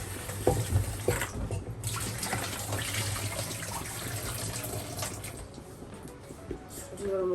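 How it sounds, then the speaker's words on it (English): Food is rinsed under running tap water while cooking Edo black soup (omoebe) with goat meat, giving a steady close splashing stream with some clatter and brief talk in the background. "I'm just gonna rinse this and put there"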